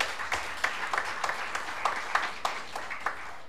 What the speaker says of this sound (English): former United States Vice President Al Gore, and you should applaud